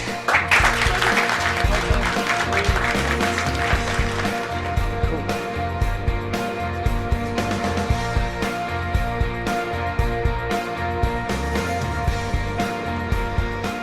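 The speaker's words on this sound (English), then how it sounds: "Accept your applause." A group applauds participants in an intensive stuttering therapy course, loud rhythmic clapping over a low, steady hum, continuing throughout with accented beats.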